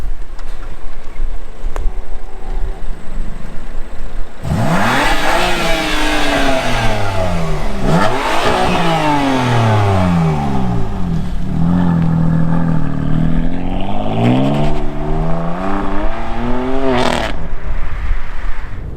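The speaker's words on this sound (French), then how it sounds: "M4 qui part." A BMW M4 accelerates away hard at a cars-and-coffee meet. The engine roars loud and close in several rising, gear-change sweeps, then fades as the car pulls off, over steady outdoor background noise.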